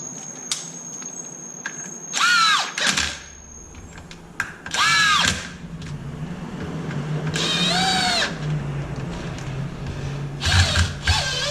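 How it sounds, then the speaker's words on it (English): An Allen tool drives bolts into the motor mount of an XMAXX 8S RC truck, heard as several short, close mechanical bursts of ratcheting, whirring clicks separated by quiet pauses. "I'm gonna take my Allen, I'm gonna align them. And I'm gonna catch threads."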